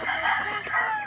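A single rooster crows once, a short rising-and-falling call heard close and clear against a quiet background.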